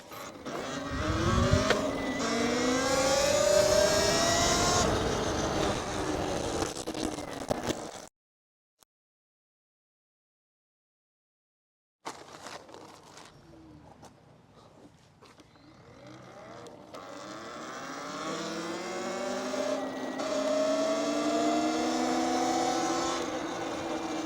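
Electric dirt bike pulling away from a standing start and accelerating hard, its whining motor rising in pitch over about eight seconds, then a silent gap before a second run builds again and fades off.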